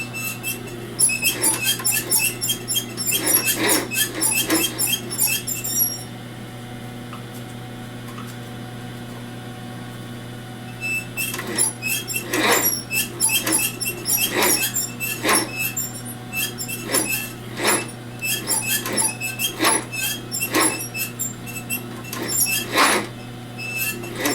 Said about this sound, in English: sewing my bottom to the rest of the bag now. And this is just a straight stitch going across.